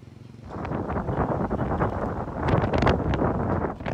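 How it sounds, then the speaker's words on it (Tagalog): Strong typhoon wind gusts buffet loudly in uneven surges over Baguio City, with rushing, roaring bursts and no voices. "malakas na hampas ng hangin ang naranasan sa Baguio City"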